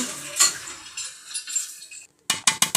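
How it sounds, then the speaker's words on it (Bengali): A spoon clinks and scrapes against a pot while chicken is stirred into polao, with irregular metallic knocks, a brief quiet gap, then a few sharp close clatters. "এবারে এইগুলো আমরা ভালোভাবে মিশিয়ে নিব আমাদের চিকেনের সাথে"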